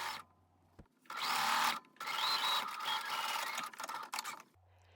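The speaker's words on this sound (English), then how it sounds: "I will take it back to the sewing machine and do a top stitch" A sewing machine whirs nearby, top-stitching a fabric seam in several bursts of steady stitching with brief pauses between them.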